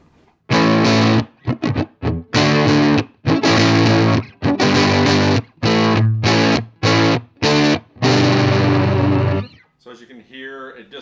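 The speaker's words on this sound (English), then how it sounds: "So as you can hear, it definitely gets a little muddy at the max volume." An electric guitar on its neck pickup plays through a Fender 5F1 Champ amp at full volume, the tone thick and muddy with distortion, loud chords struck in short bursts separated by brief silences, then a quiet ringing tail.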